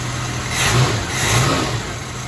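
A car engine fitted with a Weber carburetor revs up twice in quick succession during an idle adjustment, two rising swells over a steady running hum, close and fairly loud with no talking.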